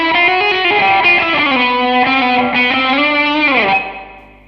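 Guitar through a Line 6 Pod amp modeler with reverb added, a sustained distorted chord ringing out steadily, then fading away as the reverb tail decays at the end.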